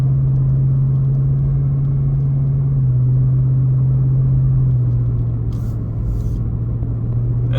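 A 2024 Ford Raptor R pickup drives slowly along a snow-covered road, its engine a steady, close low rumble with a slight shift in pitch partway through, heard alone without talk.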